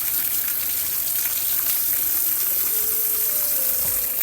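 Hand rinsed under a running kitchen tap during beef bowl cooking, a steady close hiss of flowing water mixed with background sizzling, no talking.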